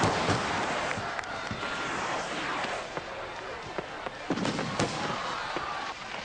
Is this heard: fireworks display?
yes